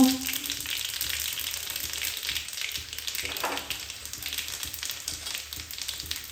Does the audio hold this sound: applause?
no